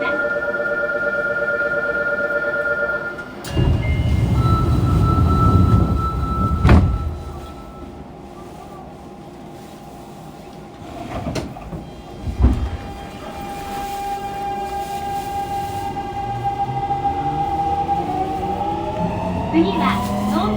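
A Fukuoka City Subway 2000 series train, set 23, with a late-model Hitachi GTO-VVVF inverter, departs under manual driving; rising, stepped inverter tones sweep upward through the motor whine, with clunks, a door or breaker thump, and running rumble building near.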